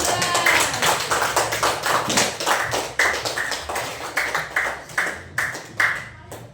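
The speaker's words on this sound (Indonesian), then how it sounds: "Dan beri tepuk tangan untuk kelompok 3." Classroom students clapping for a discussion group, a loose run of sharp individual claps spaced unevenly, close and fairly loud, thinning out toward the end.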